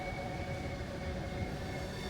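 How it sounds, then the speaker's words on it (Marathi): A train in Train Sim World 3 slows down, a steady low rumble and hum of the engine and wheels with a faint high whine, continuous and even, no voices. "ट्रेनचा स्पीड कमी होत आहे."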